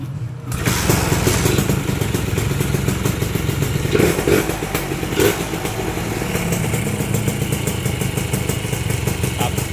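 A Honda Tena motorcycle engine, running with no battery fitted, starts and idles steadily nearby, a continuous rough mechanical rumble with occasional clatter.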